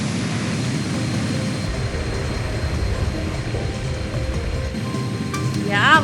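A helicopter in the video game Anonymous;Code flies with a steady, loud rotor and engine roar that holds throughout, and a brief sweeping tone rises near the end.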